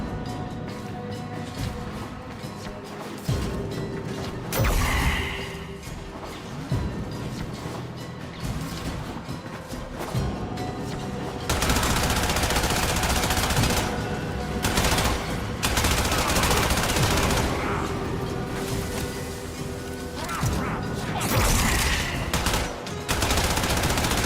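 Cannon fire aimed at a galleon in the Warframe video game, a loud continuous barrage of booming blasts, crashes and rapid gunfire that grows even denser partway through, with no talk.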